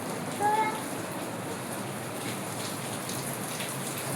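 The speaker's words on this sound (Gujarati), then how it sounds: "હા વરસાદ શરૂ થઈ ગયો મિત્રો." Rain beginning to fall outdoors: a steady, even hiss of drops hitting surfaces, moderately close and continuous, without voices.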